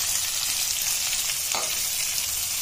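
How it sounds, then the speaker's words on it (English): Finely chopped onions fry in a hot pan with a loud, steady close-up sizzle and a brief stir partway through, with no talk. "we'll add the finely chopped onions to it."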